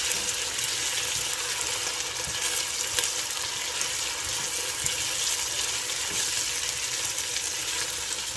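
Onions, ginger and garlic frying in a pan for a fish curry, tomatoes just added, giving a steady close sizzle with light stirring throughout.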